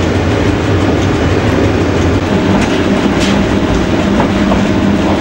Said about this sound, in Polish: O, pociąg tu jeżdża.